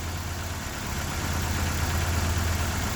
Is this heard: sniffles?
no